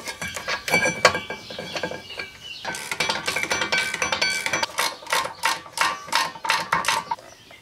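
A ratchet clicks as the caliper carrier bolts are tightened on a Ford Mondeo rear brake. Metallic clinks come first, then a run of quick, regular ratcheting strokes, close and alone.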